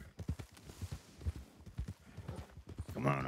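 Horse hooves clip-clop in a steady, fairly quick rhythm of close, heavy thuds, with a short voiced cry or whinny-like sound rising near the end.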